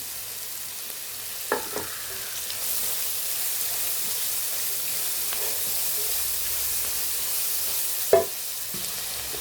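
Sliced onions and carrots sautéing in a pan with green chili, curry leaves and salt give a steady close frying hiss, broken by two sharp utensil knocks against the pan, and no one speaks.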